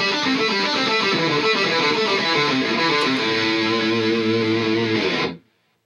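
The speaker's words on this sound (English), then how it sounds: "So up to speed, it sounds like this." Distorted electric guitar plays a fast descending pentatonic exercise in a steady, unbroken run of picked notes, loud and alone, then cuts off abruptly near the end.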